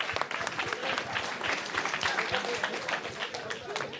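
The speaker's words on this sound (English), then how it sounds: "Let's give them a round of applause for that." An audience at a town hall meeting gives a steady round of applause, dense clapping sustained throughout at moderate level, with some voices mixed in.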